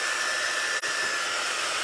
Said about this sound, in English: we're going to just hit it with a blow dryer so we can speed up the